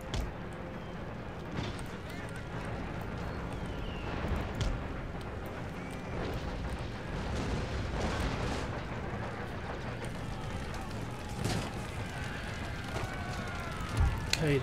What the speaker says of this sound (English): the big guns start dropping artillery in the centre